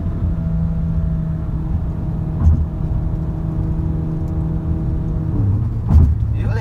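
A tuned VW Golf GTI stage 2 making 285 wheel horsepower cruises at around 200 km/h, its engine a steady low drone with road rumble and two brief thumps.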